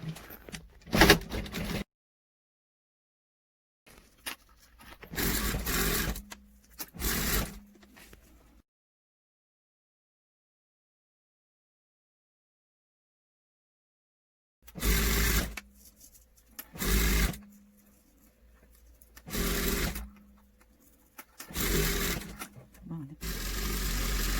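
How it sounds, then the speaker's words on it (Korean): A sewing machine stitching a hem around a jacket, running in several bursts of rapid mechanical whirring separated by pauses and near-silent gaps, close and fairly loud, with a voice talking between runs. "이게 사면을 다 돌아가면서 눌러서 스티치 박음질을 할 거예요."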